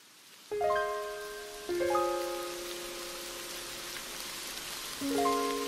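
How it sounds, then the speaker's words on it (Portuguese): Rain in a video game, with a steady soft hiss of falling drops behind it and sustained synth chords that swell in at three points. "A chuva."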